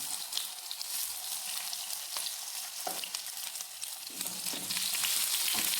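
Potato pieces fry in a pan for potato bharta, giving a steady bright sizzle with occasional stirring clicks and scrapes, close and fairly quiet, growing slightly louder toward the end.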